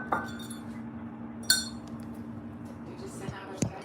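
Dishes being washed in soapy water produce a few sparse, ringing clinks of crockery and cutlery against a quiet background hum, with no talking.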